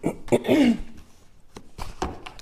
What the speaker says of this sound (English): there's no reason why I should be clearing my throat